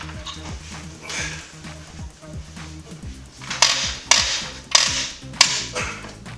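A Duralast tool works against the power steering belt tensioner on a 2012 Infiniti G37, giving several sharp metallic clanks and ratcheting clicks that grow louder toward the end, with quieter mechanical rattling earlier.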